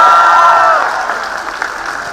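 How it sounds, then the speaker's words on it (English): An audience at a fintech conclave applauds, a full round of clapping that starts loud over a brief steady tone and then tapers off. "you require a little bigger round of applause"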